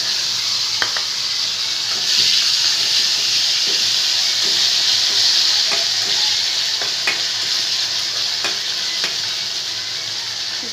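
Panch phoron spices fry in hot oil for a bitter dal, a loud, continuous hissing sizzle dotted with small pops and crackles, with no talking.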